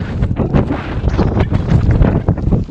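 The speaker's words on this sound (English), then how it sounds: "The wind's getting stronger." Strong wind gusts blowing outdoors in a cold, snowy setting, a loud, steady roar with buffeting rushes and bursts battering the microphone throughout, with no voices.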